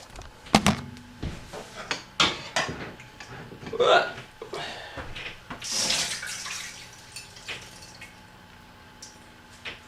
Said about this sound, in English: You need to drain your rice off, so let's do that.